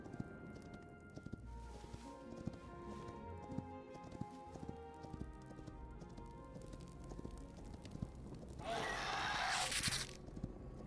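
A horse trotting in the video game Hytale, with light, repeated hoof clip-clops at a steady rhythm, fairly faint, with a burst of rushing noise near the end.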